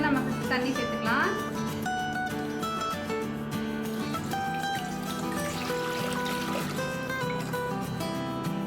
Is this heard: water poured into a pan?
yes